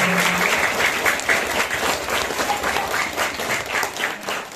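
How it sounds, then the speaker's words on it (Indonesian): Applause from a school audience at an Islamic short-course (pesantren kilat) event at an elementary school, steady dense clapping from many hands filling the whole stretch, fairly loud and close, with no talk over it. "Tepuk tangan dong buat ibu kita."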